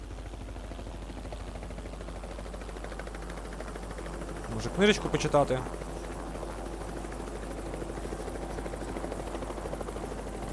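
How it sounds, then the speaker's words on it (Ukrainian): Helicopter flying overhead in the video game Project Zomboid, a steady droning rotor hum running throughout beneath a voice, with a brief louder burst of noise near the middle. "Так, вертоліт, давай успокойся літати тут."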